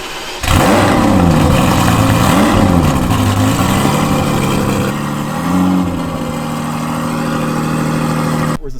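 A Ferrari Testarossa's 4.9-litre flat-12 fitted with a sports exhaust roars loudly up close, rising and falling through several revs before settling into a steadier, slightly lower drone.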